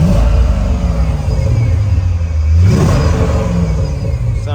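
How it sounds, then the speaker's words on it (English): A 1999 Chevrolet Corvette convertible's LS1 V8 idles with a loud, steady rumble, then revs once sharply midway, its pitch climbing and falling back to idle, close up with no talking. "Let you guys hear that LS1."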